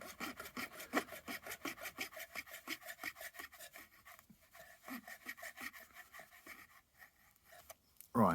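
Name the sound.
razor saw cutting with its coarser side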